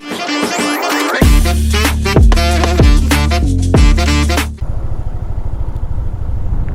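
A motorcycle engine revs loudly while riding on a road trip to Gabaldon, Nueva Ecija, with repeated throttle pulses and gear changes before the sound drops to a steadier, rougher running drone.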